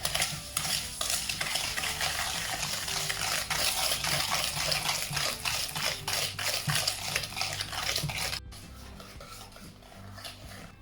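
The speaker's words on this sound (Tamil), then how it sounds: "இனி விஸ்கால சீஸ் நல்ல க்ரீமாக வருந்தனைக்கும் பீட் பண்ணி எடுக்க போகிறேன்" Cream cheese with sugar being whisked in a bowl, a fast steady run of scraping, sloshing strokes up close that stops near the end, leaving quiet.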